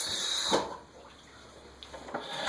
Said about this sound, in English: I'm just going to rinse it in some fresh water real quick